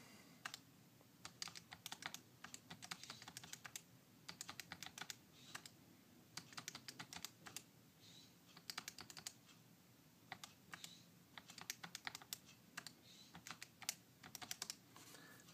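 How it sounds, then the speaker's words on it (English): Numbers are typed on a computer keyboard in quick bursts of soft, close key clicks, separated by short pauses, against a quiet room hum. "So just typing those in, adding them all up real quick."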